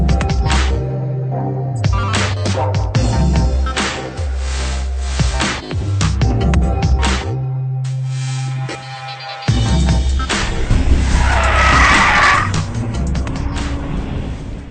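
BMW M135i driven hard around a race track, its engine droning and revving loudly through gear changes, with pitch rising and dropping over a sustained run.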